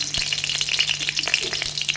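Dried red chillies crackle in hot mustard oil in a wok, a brief dense sizzle dotted with quick pops and spits, close and fairly loud.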